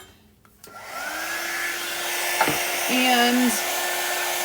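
A hair dryer blows steadily to dry fabric ink on a custom t-shirt, starting up after a short quiet moment and running continuously at close range, with a brief spoken word near the start.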